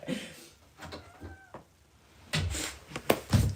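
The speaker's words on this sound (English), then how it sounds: "Stop scaring the cat." A house cat meows a few times, short and close, between bursts of knocking and clattering in a room; the later sounds come louder and busier.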